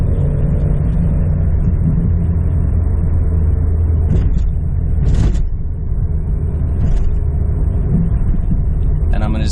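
A Jeep XJ with a freshly installed 3.5-inch Rubicon lift kit, recorded from inside on the move, gives a steady loud rumbling road and drivetrain drone, with a few brief whooshing surges over it.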